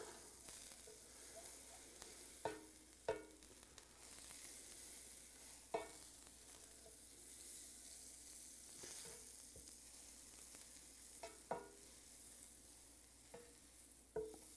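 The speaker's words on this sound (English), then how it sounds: "I'm putting 15 milliliters or a tablespoon of butter in, and we're just going to let it melt." A tablespoon of butter melting in a preheated frying pan gives a steady soft sizzle, broken by occasional clinks and scrapes of a utensil, fairly faint and close, with no talking.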